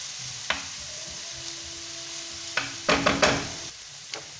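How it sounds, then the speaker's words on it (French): Small onions sweat gently in a pan with a soft, low sizzle, punctuated by a handful of spoon scrapes and knocks as they are stirred, clustered toward the end. "suer un petit peu nos petits oignons. Je vais rajouter un petit peu de sel. Voilà. On remue de temps en temps."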